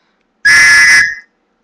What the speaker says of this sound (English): I think I might have gotten a rape whistle. I'm gonna blow it because it sounds cool.